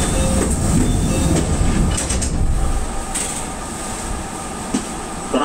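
An Enshu Railway train at Nishi-Tajima station on a lengthened four-car set, heard as a steady rumble of running gear with sharp clanks and squeals, loud and near throughout.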